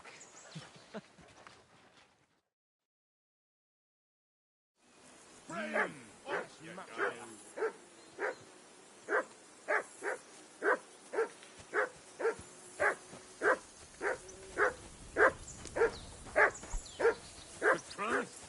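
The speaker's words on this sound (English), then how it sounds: "Do something with that mutt, Henry. It's doing my head in" A dog in the video game Kingdom Come 2 barks steadily in a long, regular series of sharp yaps after a brief silence, with voices talking early on.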